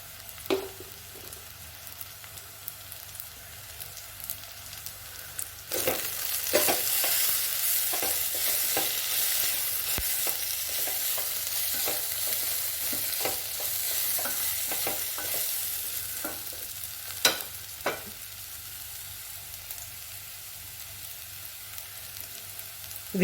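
Ground coriander, turmeric and black pepper powders being stirred and fried in a pan for a chicken roast masala, a steady soft sizzle with scraping stir strokes that grows louder partway through, no talking.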